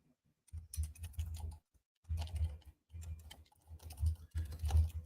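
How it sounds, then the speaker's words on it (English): Typing by hand on a computer keyboard, close and fairly quiet, in several bursts of rapid key clicks separated by brief pauses, with no talking. "So now I'm typing it out by hand."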